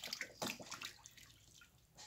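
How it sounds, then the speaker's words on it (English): Flour dough being kneaded and washed in water by hand, giving soft, close sloshing and squelching splashes in a few quick bursts that fade to quieter dripping. "this is how you wash the flour"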